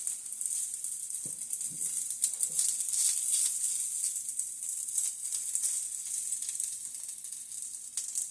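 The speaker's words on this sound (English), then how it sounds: "move my rice around a bit so it doesn't burn" Rice frying in a pan: a steady, bright sizzle runs throughout, and a few soft scraping knocks from stirring come early on, with no talk.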